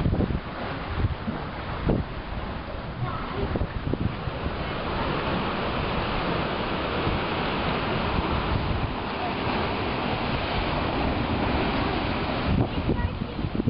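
Waves roll and wash onto a beach at Bush Rocks as a steady, broad surf hiss, with wind buffeting the microphone throughout.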